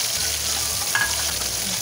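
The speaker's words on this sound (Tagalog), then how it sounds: "Ayan guys, maggisa na tayo. Bawang. And then sabayan natin ng sibuyas." Garlic and onion sauté in a pan, heard as a dense, continuous close-up sizzle that stays steady and loud through the short stretch, with one faint clink partway through.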